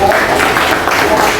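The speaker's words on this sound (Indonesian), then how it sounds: "tepuk tangan buat saya" Classroom applause in a lesson on inter-island trade in Indonesia, a short burst of clapping from the students, fairly loud and close, lasting under two seconds.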